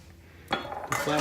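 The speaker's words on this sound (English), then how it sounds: "stir that up a bit" Utensil scraping and clinking against a pan while stirring figgy pudding mixture, two short close bursts after a quiet start.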